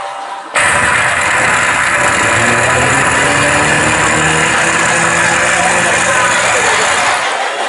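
A person's mouth imitates a motorcycle engine, a loud, steady rumbling drone that starts abruptly and holds for several seconds, close up, with a slight wavering pitch.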